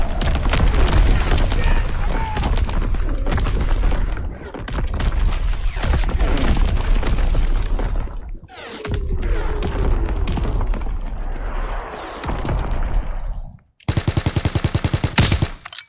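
Artillery shells pound the map in the World War II shooter Call of Duty: WWII, a dense, loud barrage of booms and blasts mixed with gunfire that rolls on continuously, ending in a burst of rapid firing.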